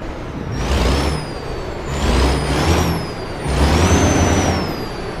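A heavy wrecker truck engine in American Truck Simulator runs steadily in a loud, rumbling drone that swells and eases in waves, with a thin whine and hissing air on top.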